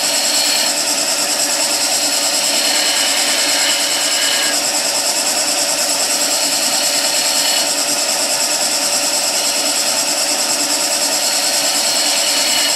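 A skew chisel cuts into spinning wood on a lathe, giving a steady, loud, continuous hiss and whir of the tool shaving the workpiece, alone without voices for the whole stretch.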